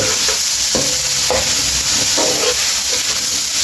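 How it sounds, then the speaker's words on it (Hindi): Chicken pieces fry in a hot pan with a loud, dense, constant sizzle, and a few soft scrapes of stirring stand out over the hiss, close to the ear with no voices. "उतनी देर हम इसको फ्राई करेंगे"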